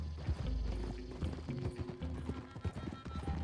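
Horses galloping across the ground in the video game Red Dead Redemption 2, a rapid close drumming of hooves with thuds and clatter and a faint whinny, lasting a few seconds.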